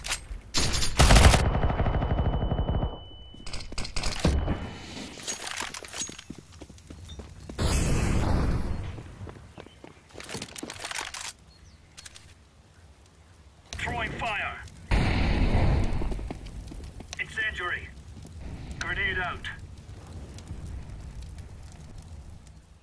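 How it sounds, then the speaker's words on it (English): Grenade, incendiary and flashbang blasts go off in Counter-Strike: Global Offensive, sharp bursts and loud thuds scattered among gunfire, with brief game voice callouts between the bangs. "Throwing a grenade. Incendiary out. Throwing flashbang."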